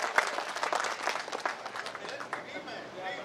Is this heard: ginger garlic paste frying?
no